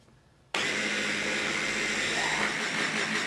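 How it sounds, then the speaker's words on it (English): A small blender blending rocket pesto starts abruptly and runs as a loud, steady whir to the end, with no talk. "now we get to blend with the little blender"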